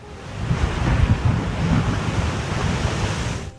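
Rough sea waves crash and surge in a continuous loud roar, mixed with gusty wind buffeting the microphone.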